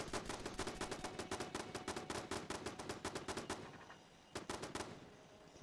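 Automated turret machine gun fire in the Fallout 76 video game, heard as rapid sustained bursts of gunshots, then a short pause and a few more shots, fairly faint overall.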